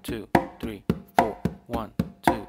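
Close, steady conga strokes carry a clave independence pattern, with about seven crisp, ringing hand hits at an even pace and no voices.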